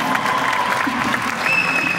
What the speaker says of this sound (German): dann machen wir richtig Applaus